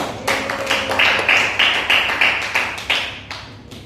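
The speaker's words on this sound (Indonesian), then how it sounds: "Nah, tepuk tangan teman-teman." Students in a classroom clap their hands in a rhythmic series of sharp, close claps, roughly three per second, evenly spaced and fading toward the end.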